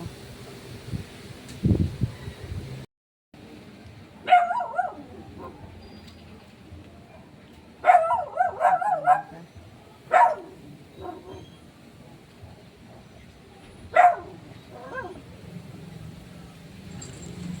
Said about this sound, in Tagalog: Kasi yung mga aso nila, syempre bago kami dito. Kaya hindi namin mapahinto yung mga tahol nila.